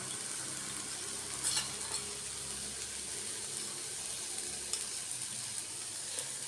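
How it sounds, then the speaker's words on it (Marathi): Red chili powder and masala for egg curry being sautéed in a pan give a soft, continuous sizzle, with a few light clinks of stirring and no talking. "आता छान परतून घेते परत मी."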